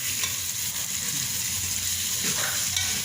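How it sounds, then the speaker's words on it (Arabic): Beef or mutton sautéing with onions and black pepper in a pot on a home stove gives a steady, close frying hiss, with a few faint stirring scrapes near the end. "اللحمة اتشوحت شوية في البصل"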